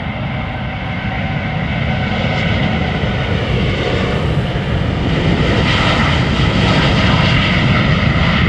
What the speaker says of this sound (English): PH-BKH 787-10 Dreamliner